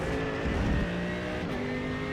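Race car engine in the iRacing sim, driven on the Sebring circuit, droning steadily with a loud harmonic whine and a small surge in revs, up close and alone.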